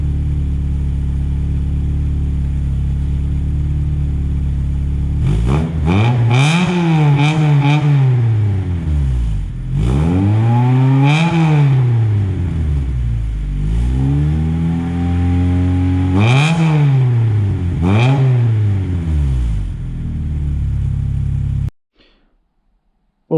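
A 3rd gen Honda Prelude with a homemade valved turbo muffler revs repeatedly, loud and close, its engine note rising and falling in several sharp swells before cutting off abruptly.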